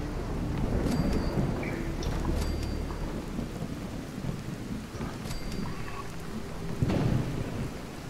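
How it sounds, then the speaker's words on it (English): A steady downpour with deep rolling thunder fills a Fallout 4 thunderstorm, the rumbles swelling near the start and again toward the end, with scattered faint clicks over the constant rain. "Safe from the thunder and lightning."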